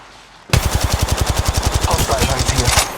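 Automatic weapon fire in the Apex Legends Mobile battle royale on Kings Canyon, a sudden loud burst of rapid, evenly spaced shots that runs unbroken for over two seconds after a quiet lead-in.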